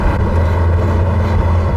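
A Porsche Carrera GT on the move gives a loud, harsh mechanical engine drone, a steady low hum with busy rattling layered above it, heard alone without speech.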